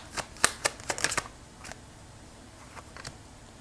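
Tarot cards are shuffled close by, a quick flurry of crisp riffling snaps followed by a few softer, sparser flicks, faint and alone.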